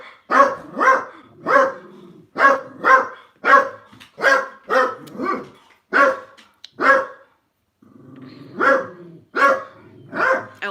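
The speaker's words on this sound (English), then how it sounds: "See the wee dogs over the road." Small dogs across the road bark in sharp, yappy bursts, volley after volley with brief pauses, fairly loud and clear.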